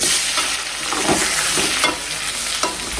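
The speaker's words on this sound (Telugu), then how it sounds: "ఫస్ట్ బెండకాయలు వేసుకొని వేయించుదాం" Sliced okra fries in a dry pan, a dense, close sizzle with steady crackle and a few soft stirring scrapes, no voices.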